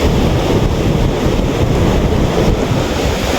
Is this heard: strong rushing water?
yes